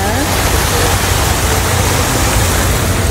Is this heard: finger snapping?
no